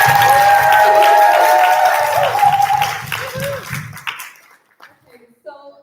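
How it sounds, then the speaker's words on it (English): Audience clapping for a panel of speakers at a community event, a broad wash of many hands under a voice speaking over it, tapering off after about four seconds into near quiet. "Can we get a massive round of applause for all of our panelists?"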